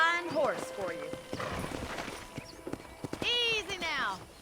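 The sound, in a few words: horse hooves and whinny in video game Red Dead Redemption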